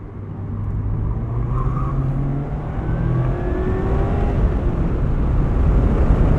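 A 2024 Mazda MX-5 Miata ND3 RF hardtop drives through backroad corners, its engine droning steadily from inside the cabin, with pitch shifting and rising as it accelerates under constant road and wind noise.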